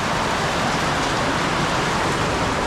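Heavy rain falls at night in a steady, dense hiss that stays loud and unbroken throughout, with no voices.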